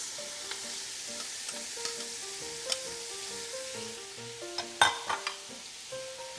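Celery and carrots frying in fat in a pan, a soft continuous sizzle broken by occasional utensil clinks and stirring scrapes, fairly quiet and close, with no talking.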